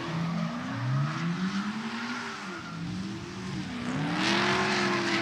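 Pro drift cars at a drifting event wail with high, wavering engine tones that rise and fall through gear changes, joined by a broad rasp of tire smoke and drag, steady and fairly distant.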